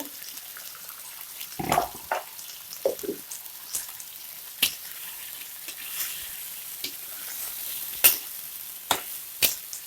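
Bitter gourd is stirred into a tauco coconut milk sauce, making a soft, faint bubbling sizzle broken by irregular scrapes and clicks of a spoon against the pan, close and quiet.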